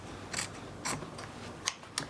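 Scissors snip through fabric while trimming a sewing project, giving four short, crisp cuts spaced irregularly over a quiet background.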